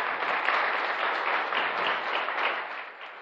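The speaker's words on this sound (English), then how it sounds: "Just give you an applause, please." Audience applause at a programming conference talk, a steady dense wash of clapping that holds for about three seconds and then begins to fade, with no voices over it.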